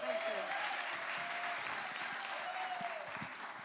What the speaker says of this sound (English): Round of applause for them both